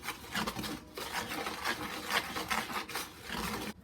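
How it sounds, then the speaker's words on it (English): A quick whisk of self-rising flour and packed light brown sugar in a bowl gives soft, rapid scratchy strokes in a fairly even rhythm, close but quiet, with no talk. "Going to give this a quick whisk,"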